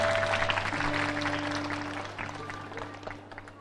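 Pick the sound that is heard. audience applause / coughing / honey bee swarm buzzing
audience applause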